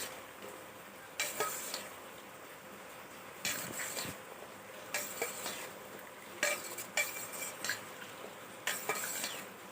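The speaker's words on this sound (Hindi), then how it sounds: "जैसे मैं अभी तल रहा हूँ, उसे कुछ देर तक पकने तक तलना है।" Ridge gourd (taroi) frying in a pan, a quiet continuous sizzle punctuated by sharp clanks and scrapes of a spatula stirring against the metal at irregular intervals.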